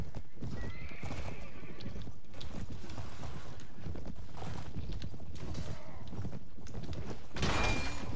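A horse in the video game Mount & Blade: Warband gallops with fast, steady clip-clopping hoofbeats and a neigh, fairly loud and continuous, with game battle noise in the background.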